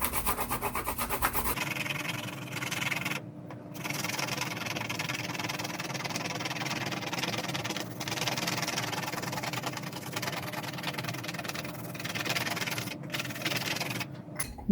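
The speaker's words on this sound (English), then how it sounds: "Just rub over it." An old colored pencil rubbed over a raised relief makes a steady, close scratchy rubbing that continues almost without a break after a brief start.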